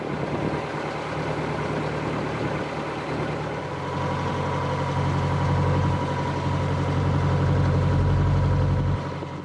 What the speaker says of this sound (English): If you listen really carefully, there's a slight rattly noise.